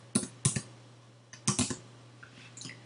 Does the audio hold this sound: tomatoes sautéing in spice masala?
no